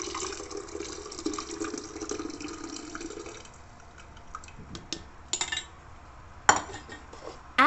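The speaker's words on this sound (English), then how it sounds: "First, in an empty jug, by using a strainer, pour the boiled purple basil." Boiled purple basil poured through a strainer into an empty jug, a soft continuous trickle of liquid for a few seconds, then scattered light clinks and knocks of kitchenware nearby.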